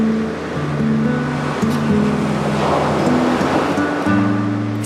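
Heavy ocean surf at Guincho beach in Cascais, Portugal, where big waves and strong currents draw windsurfers and surfers: a continuous loud wash of breaking waves with wind noise and a low steady rumble, no voices.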